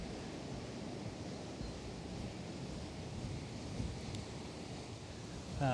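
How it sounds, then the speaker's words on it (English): Gusty wind buffets the microphone beside choppy river water near Teston, a continuous low rumbling roar with a faint wash of lapping waves throughout. "It is so windy and choppy out here today."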